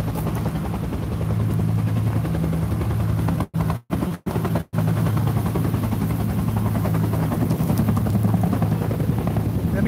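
Huey military helicopter taking off at a military vehicles show, a steady low rotor thump and engine drone heard outdoors, briefly cut by several sharp dropouts partway through.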